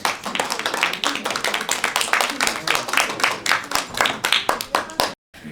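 An audience claps warmly to welcome a family representative to the stage at a disability family self-advocacy contest. The applause comes as dense, steady clapping for about five seconds, then cuts off abruptly.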